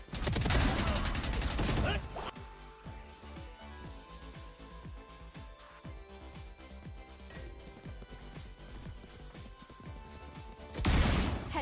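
Rapid bursts of gunfire from the shooter game Valorant, loud and dense at the start and end with scattered shots and impacts between, along with game sounds and some voice.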